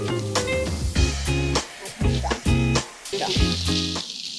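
Vegetable fried rice sizzles in a pan just after soy sauce goes in, a steady close hiss running beneath a louder, pulsing tonal sound that comes and goes.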